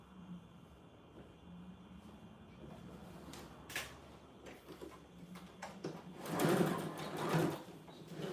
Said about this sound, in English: So this is inside the lining, so I'm gonna stitch around.